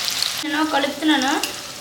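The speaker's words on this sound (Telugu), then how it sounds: "నేను కలుపుతున్నాను." Banana chips frying in hot oil for a hot chips style snack while being stirred, a brief close hiss of bubbling oil with a few tonal squeaky streaks through it.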